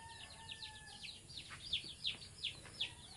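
Chickens in a backyard coop on a small Filipino poultry farm, giving a run of faint, high chirps and calls that grow into several louder, evenly spaced cries near the end over a soft background hum.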